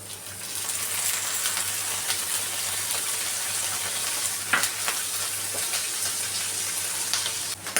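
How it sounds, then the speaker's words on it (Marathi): Paneer fries in hot oil in a pan with a continuous, fairly loud sizzle and crackle, broken by an occasional sharp spatter or clink of a utensil. "तेल गरम झाल्यावरती त्याच्यामध्ये आपण पनीर टाकणार आहोत."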